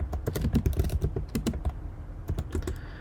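Rapid typing on a MacBook keyboard in a terminal, a close, dense run of crisp key clicks for about two seconds, then a pause and a short final burst of keystrokes.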